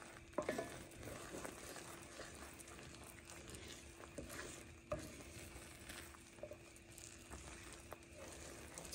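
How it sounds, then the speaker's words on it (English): Butter toffee candy being stirred and scraped in a pan as it cooks and darkens, a steady soft sizzle with repeated scraping strokes close up, no talking. "You can see how it's leaving a trail as I scrape."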